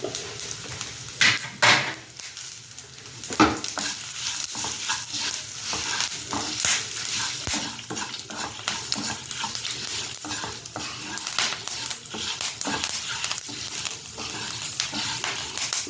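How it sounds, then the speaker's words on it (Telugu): Spices for usirikai (gooseberry) pickle, with asafoetida, turmeric and salt, frying on a low flame, a steady close sizzle under frequent metal stirring and scraping against the pan. "సిమ్లో పెట్టి వేయించాలండి."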